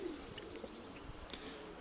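A faint, soft cooing from a domestic flying pigeon, a few low murmured coos close by against a quiet background.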